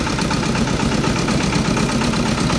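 A boat engine runs steadily and close as the boat reverses out along a remote river, with a continuous rumbling drone and no talk over it.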